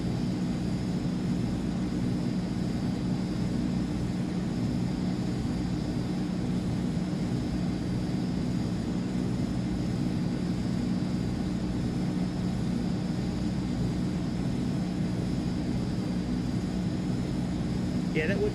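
PMDG Boeing 777 engines idling as the airliner taxis in a flight simulator game on Xbox: a steady, unbroken low drone with a constant airy hiss above it, holding level throughout.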